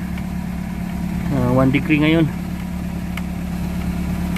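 A Nissan Rogue engine idles steadily in freezing cold, a constant low hum close by, with someone speaking briefly over it.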